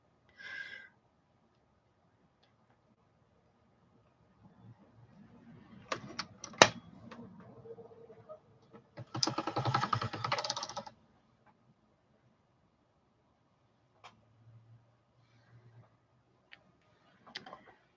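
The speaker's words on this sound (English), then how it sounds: "Dinky Doo is on the keyboard again." A pet steps across a computer keyboard, producing scattered key clicks and a couple of short clattering bursts, quiet and close, with long silent gaps between.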